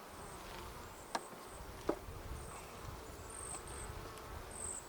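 Honey bees buzzing around an open hive during an inspection, a steady close hum with intermittent higher whines from passing bees and a couple of faint clicks from the frames.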